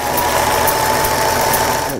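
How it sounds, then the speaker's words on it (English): A sewing machine runs steadily for two seconds, a continuous close mechanical whir with a faint rhythmic stitching pulse and no pauses. "I started what I call designing with the sewing machine"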